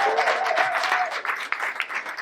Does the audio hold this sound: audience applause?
yes